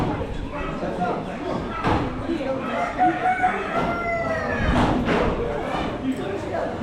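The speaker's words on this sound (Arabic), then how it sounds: "دجاج بالكروازي، دجاج بالبلدي" Chickens cluck and a rooster crows amid the busy, noisy Souk El Had market in Agadir, Morocco, with people talking throughout.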